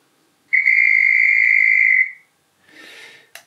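A Bachmann Class 25 model locomotive with DCC sound gives one loud, steady two-tone horn blast of about a second and a half. Softer hissing noise follows, then a short click.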